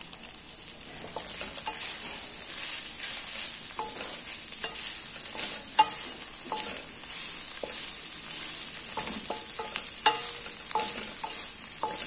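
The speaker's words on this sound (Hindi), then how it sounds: "उतनी देर तक हम इसको फ्राई करेंगे जब तक ये थोड़ा थोड़ा नरम नहीं हो जाते।" Onion and capsicum fry in a pan, giving a steady hiss of sizzling oil broken by repeated sharp clicks and scrapes of a spatula stirring them, close and with no talk.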